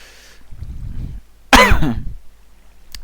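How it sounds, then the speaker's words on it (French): A soft throat-clearing grunt is followed by a single sharp, loud cough up close, then quiet. "Pardon pour la toux, je suis un peu malade."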